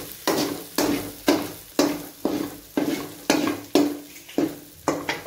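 A spatula pushes softened ingredients aside in a hot pan for an egg masala fry, scraping in about ten even strokes over a low, steady sizzle.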